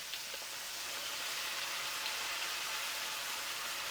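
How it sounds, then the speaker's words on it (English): Food sautéing in a pan with fish sauce, a soft, even hiss of sizzling that holds steady and fairly faint throughout, with no talk. "And I'm gonna saute that for a little while."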